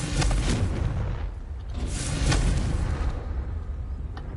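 Confringo fire spell blasts in Hogwarts Legacy, a pair of loud booming explosions with rumbling low-end tails, the second burst heavier and followed by a fading roar.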